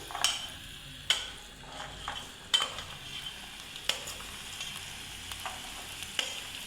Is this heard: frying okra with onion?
yes